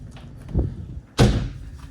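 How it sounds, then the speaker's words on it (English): A shower door in a balcony cabin aboard the MSC World America cruise ship shuts or opens with one loud, close thud, after a softer knock just before it. "Got the shower door."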